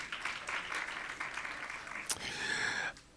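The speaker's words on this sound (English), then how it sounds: "Let's give her a round of applause." A meeting audience gives a short round of applause, steady clapping that fills the room for about three seconds before cutting off abruptly.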